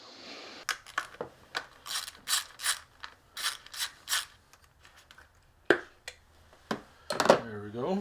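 A torque ratchet clicks in short bursts while tightening a spark plug on a Jeep Cherokee 3.2 engine to a low torque setting, sharp close ratcheting with pauses and someone talking between.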